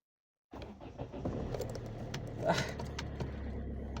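A Kia Ceed engine, after its battery failed to start the car, is cranked and brought to life with a portable jump starter booster that sat in the trunk for two months. The engine catches and runs steadily up close, with keys jangling, and no one talks.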